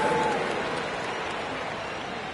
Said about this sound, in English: Another round of applause for your ATL Dancers.